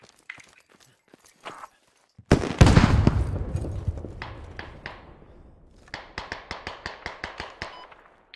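Sharp gunshots crack in a video game, first scattered, then a loud burst with echoing decay, followed by a rapid string of evenly spaced shots.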